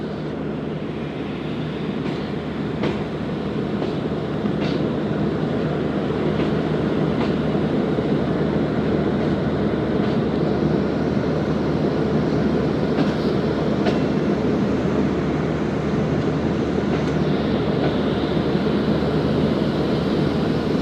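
Musapak passenger train in Pakistan rolls steadily along the rails, a loud continuous rumble with faint rhythmic clicks of wheels over joints heard from inside the carriage.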